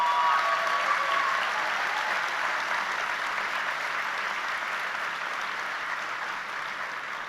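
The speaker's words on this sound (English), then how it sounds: "Please join me now in welcoming all of our administrators and distinguished guests with a bit of applause." Large commencement audience at a college graduation applauding administrators and distinguished guests, a steady dense wash of clapping that holds evenly and fades slightly toward the end.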